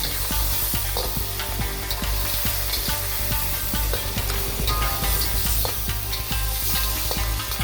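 Live lobster stir-fries over high heat, a loud, dense sizzle with rapid clatter and scraping of tossing in the wok, continuous and close throughout.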